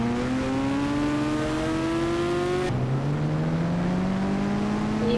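A vehicle drives at speed with a steady loud engine whine that rises in pitch, drops at a gear change, then climbs again, close and continuous.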